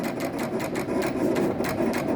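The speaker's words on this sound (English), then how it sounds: "We can walk away from the machine and let it just continue cutting." A decal vinyl cutting machine works through a full vinyl sheet with a steady mechanical whir and rapid rhythmic ticking pulses, continuous and moderately close with no voices.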